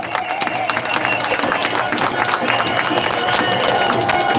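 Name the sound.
crowd applause for marshals team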